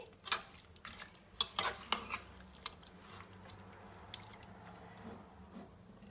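Meat and tomatoes stirred in a pot for aloo gosht shorba, soft wet scraping and squishing strokes at irregular intervals with a faint sizzle underneath, quiet and close.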